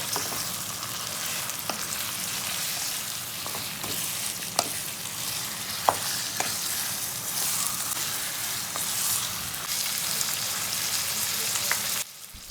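Mutton sizzles and fries in a pot with browned onions, a dense, steady crackle broken by occasional stirring knocks and sharper spits, continuous throughout at moderate loudness.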